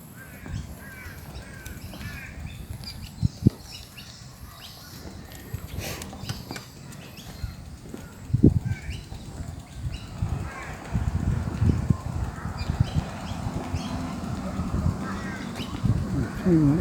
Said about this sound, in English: Young guinea fowl.